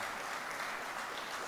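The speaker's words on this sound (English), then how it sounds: "I think that really deserves a round of applause." A congregation applauds during a memorial service, a dense, even patter of many hands clapping together, steady and moderately loud throughout a brief burst.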